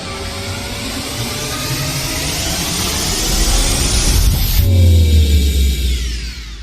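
A droning techno sound effect called the Drone of Dread, a loud sustained machine-like hum with rising rubbing textures that swells toward the end and drops into a heavy low rumble.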